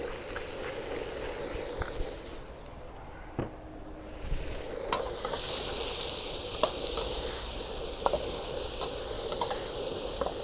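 Vegetables and pepper sizzle in a hot pan for chicken fried rice, a moderate steady hiss that briefly drops away then returns, punctuated by sharp scrapes and taps of a utensil against the pan.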